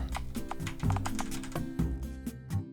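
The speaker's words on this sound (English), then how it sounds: "Press the arrow keys." Arrow keys pressed on a computer keyboard during a jacks minigame in My Neighbor Enide: irregular, crisp plastic key taps, about fifteen in under three seconds, close and clear over a soft background tone.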